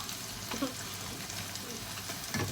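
Egg omelette with eggplant frying in a pan, a steady close sizzle with soft stirring scrapes and small spatters throughout.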